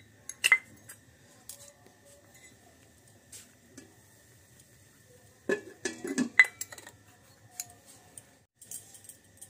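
Metal bowls are handled while being greased with oil for steamed pitha, giving a few scattered close clinks and clatters separated by quiet stretches, with a cluster of knocks in the middle.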